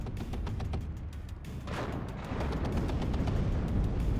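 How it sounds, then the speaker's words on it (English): Dense battlefield gunfire from tanks and infantry fighting vehicles in the WARNO strategy game, with booms and cracks piling together into a constant rumbling barrage of shots on a town, loud and unbroken for several seconds. "Look at all the shots coming in, supporting fire on that town from tanks,"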